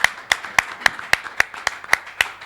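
Slow, evenly spaced claps at a music festival press conference in Kinshasa, about ten sharp hand claps in a steady rhythm, fairly close, with no crowd wash behind them.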